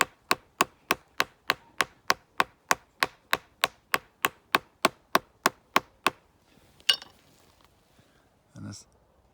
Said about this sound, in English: But I'll give it a hammer all the way along first.